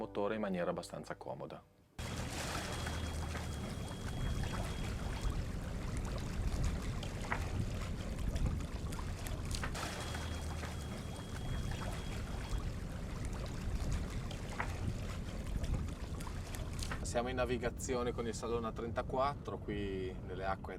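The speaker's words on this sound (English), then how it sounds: "We're sailing with the Salona 34 here in the waters in front of the Gulf of Trieste." A Salona 34 sailboat sailing in a light breeze on the Gulf of Trieste: steady rush of water along the hull with low wind noise, a constant wash throughout, briefly cut near the start.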